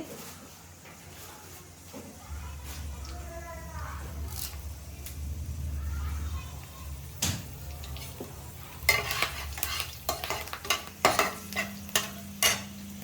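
Garlic and cumin fry in a pan with a soft, continuous sizzle, while a spoon scrapes and stirs through it. The stirring turns into sharper, choppier knocks toward the end, heard close and fairly quiet with no talking.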